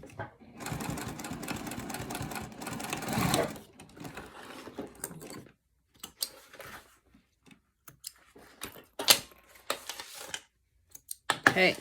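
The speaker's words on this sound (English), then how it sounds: "I'm going to go over to the machine and I'm going to stitch just across this section there" A sewing machine stitches across a section of a Triskele wallet, running in a loud continuous burst at the start, then in shorter intermittent runs with pauses, close by.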